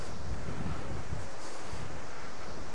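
Strong wind buffets the microphone at a campsite by old brick kilns in Norfolk, a constant rough, blustery roar that fills the whole short stretch, loud and close with no break.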